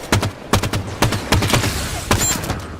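Halo 5 gunfire in loud, close bursts of sharp shots, separated by short pauses and repeating in an irregular rhythm over a low rumble.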